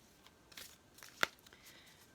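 A few soft riffling shuffles of a tarot card deck, a quiet papery flutter with one sharper snap near the middle, close and alone without talk.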